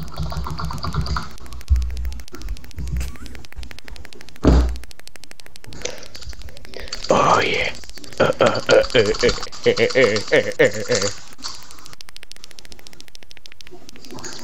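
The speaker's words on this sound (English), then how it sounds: "It's me pressing the power button on my phone repeatedly." A phone's power button is pressed repeatedly right beside a microphone, giving a short run of dull close thunks and clicks, followed by people talking.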